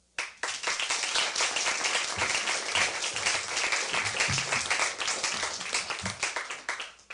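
An audience applauds the panelists at a Toastmasters-hosted debate on the historicity of Jesus, a sudden burst of dense, sustained clapping from many hands that continues steadily for several seconds before tapering off.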